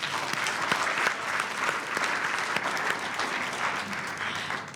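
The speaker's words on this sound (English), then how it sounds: "Give yourself a round of applause for being here." Sustained applause from a congregation gathered in a church sanctuary, a dense, even clapping that fills the room for several seconds without pause.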